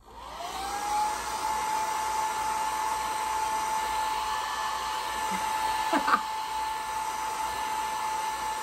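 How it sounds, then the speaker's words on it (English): A blow dryer runs steadily while styling a frontal hair install, its whirring airflow and high motor whine constant and close, broken briefly by a short laugh. "Next, blow dryer."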